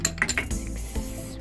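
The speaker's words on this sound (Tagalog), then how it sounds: "Ayan yung mga pinggan dito." Ceramic plates and dishes clink against one another in a home goods store, a few sharp clattering knocks close by, with no talking over them.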